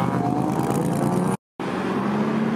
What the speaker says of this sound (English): Nice McLaren 570S rolling in.